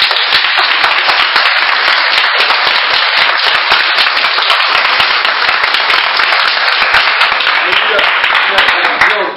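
Church congregation applauding loudly and continuously, dense rapid clapping that fills the space without a break.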